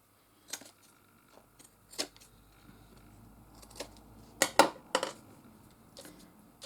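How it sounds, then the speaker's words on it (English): Scissors trim excess material from a small handmade Pinflair Holly Cottage craft model, giving a few sparse, quiet snips and clicks, with a tight cluster of sharper cuts partway through. "I cut off the excess because I've done it a bit too big"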